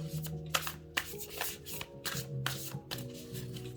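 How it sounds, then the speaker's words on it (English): A 78-card tarot deck is shuffled close up, with quick riffling bursts and soft slaps repeating in a steady rhythm, and no talking. "So definitely shuffles nicely."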